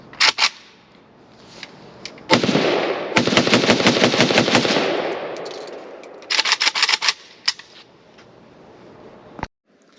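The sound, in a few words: Romanian Nova CGR AK rifle firing with a Russian magazine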